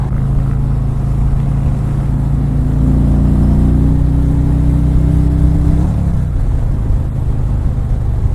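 A 2018 Harley-Davidson Ultra Limited with the 107 engine cruising on a freeway at 65 to 70 mph, giving a steady, loud low engine drone with wind rush and a slight pitch shift near the end.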